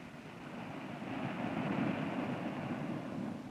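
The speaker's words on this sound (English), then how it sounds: "That's the sound of the ocean waves." Ocean waves washing and rolling in a steady, broad hiss, holding at an even level throughout with no voices, from an old seal nature film.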